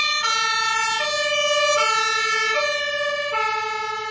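An electronic toy fire truck siren alternates between two pitched tones in a steady hi-lo pattern, bright and close, with no talking.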